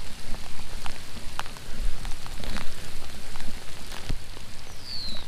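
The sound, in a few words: rain falling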